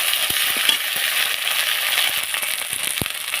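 Spices with onion, tomato, ginger and cumin frying and being stirred in a pan: a steady close sizzle with scattered crackles and a few soft knocks of the spoon against the pan.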